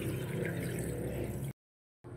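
Running water rushes loudly and steadily over small crabs being rinsed clean, cutting off abruptly, followed by a brief silence before the flow resumes.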